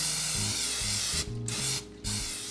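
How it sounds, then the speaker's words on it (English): Nonstick cooking spray hissing steadily into a 4-liter container, a close continuous spray broken by two brief pauses. "I'm going to spray this completely with nonstick cooking spray"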